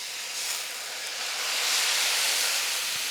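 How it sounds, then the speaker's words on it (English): Broccoli steaming in a pan after half a cup of water has been added, giving a steady loud hiss that swells slightly midway and stays continuous, with no talk over it. "I'm going to let this steam for 2 minutes"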